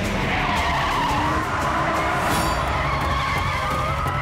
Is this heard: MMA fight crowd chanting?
no